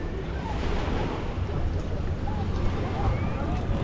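Public ferry crossing Lake Atitlan from Panajachel to San Pedro, with a continuous rush of waves and water against the hull mixed with heavy wind buffeting the microphone, loud and steady throughout.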